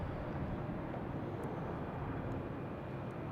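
A Delta airliner arriving at Boston Logan Airport, heard as a steady, faint, distant jet engine rumble and roar without any voices.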